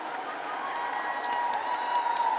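Faint, steady applause from a crowded awards-ceremony audience, a continuous wash of distant clapping with murmuring voices underneath.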